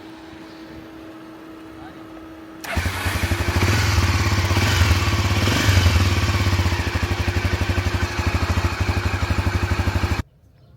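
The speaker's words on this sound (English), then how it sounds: "This dirt bike has a nice little fan on it, keeping the engine cool." An old dirt bike engine starts up and idles loudly nearby in Cambodia with a steady, rapid putter, then cuts off abruptly.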